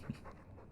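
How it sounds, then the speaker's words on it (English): A dog panting in the video game Dragon Age 2, a short, soft burst of breathy huffs close by over low game ambience. "He's a sweet dog, Hawk."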